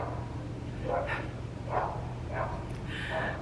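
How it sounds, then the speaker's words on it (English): A dog barks outdoors at a distance, a few faint, evenly spaced barks heard over a low indoor hum. "someone's dog is barking out there."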